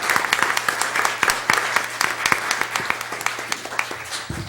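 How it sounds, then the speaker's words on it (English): Audience applause at a city's State of the City event, steady dense clapping from a large crowd with sharp individual claps standing out, filling the room without any talking. "I'd just like to ask for a round of applause"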